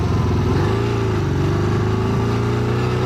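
Motorcycle riding along, its engine droning loudly and close with a steady throbbing note that rises slightly as it pulls, wind buffeting underneath, no talk.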